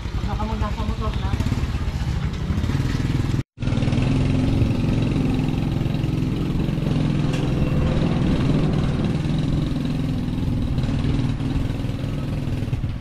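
A motorcycle engine runs steadily at a close, even idle-like drone, cutting out for a moment before resuming and continuing unchanged to the end.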